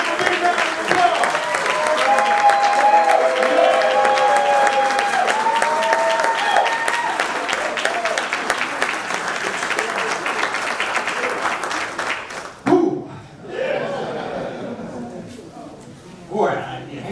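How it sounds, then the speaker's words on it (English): A banquet crowd at an awards dinner breaks into loud, sustained applause with cheering mixed in. It fades near the end, and a voice then speaks over the room. "Let's give a big round of applause."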